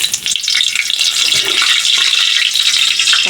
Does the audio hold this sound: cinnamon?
yes